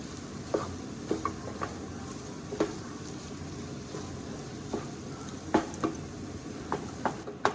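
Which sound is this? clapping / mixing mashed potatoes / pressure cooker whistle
mixing mashed potatoes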